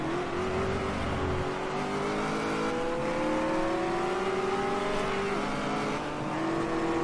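A small Abarth racing car with a 1000 cc engine in GT Legends revs hard through repeated rising gear pulls, a buzzy nasal engine note climbing, dropping at shifts and climbing again, close and steady.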